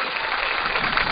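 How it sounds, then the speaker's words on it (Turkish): An outdoor picnic audience at a Turkish community gathering applauds, a steady, even patter of many hands clapping that holds at one level throughout. "Hepinize çok teşekkür ediyorum alkışladığınız için."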